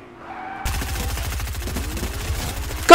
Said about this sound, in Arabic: في واحد قاعد يطلق علي